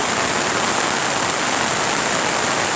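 Loud, steady roar of floodwater rushing through a swollen creek after heavy rain, a dense continuous wash of churning water filling the whole moment up close with no voices.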